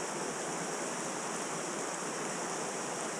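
The River Dart rushes along in a steady, even wash of flowing water, constant and fairly faint with no other sounds on top.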